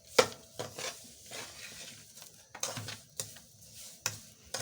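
Dry fruits being roasted in semolina halwa in a pan, heard as a series of short, separate scraping and tapping strokes from the stirring spoon over a faint background sizzle.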